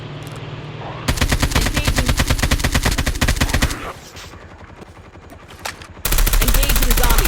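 Rapid automatic bursts from the SwitchBlade X9 in Call of Duty Mobile hammer out in two long, loud strings of evenly spaced shots, separated by a quieter stretch of background game noise.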